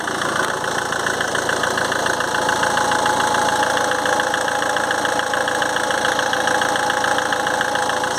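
A Ford Mondeo engine with a charging fault idles steadily up close, a continuous even mechanical drone with a fine rapid ticking texture and no voices.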